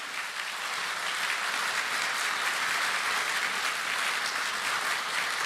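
A large congregation at a Korean Easter union worship service gives broad, dense applause. It comes as a steady, full roar of many hands and stays even in level from start to finish, with no voices over it.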